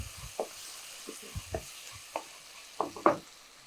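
Onions and tomatoes frying in a pan for a mutton pepper fry are stirred with a spoon, giving a soft low sizzle under a string of distinct scraping knocks that grow louder near the end.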